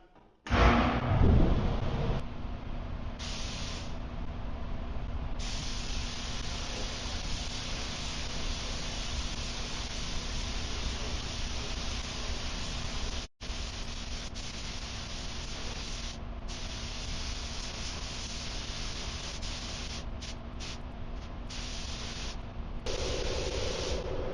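A spray gun lays blue paint coats on car parts from a rebuilt auction vehicle, producing a loud, steady hiss that runs almost continuously, with brief pauses and short breaks between passes.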